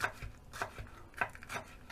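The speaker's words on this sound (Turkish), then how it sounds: "Yemeğimizde kullanacağımız yeşil biberleri yıkadım, ayıkladım. Onları da şöyle iri ise dörde böleceğiz." A knife chopping washed green peppers into dice-sized pieces on a board, a series of soft irregular thuds and cuts, faint and close, with no talking.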